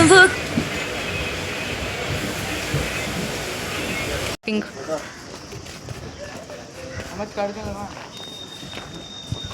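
Steady rumbling rattle of a moving train carriage, loud and continuous, with a sudden break midway before the quieter rolling noise and faint voices resume.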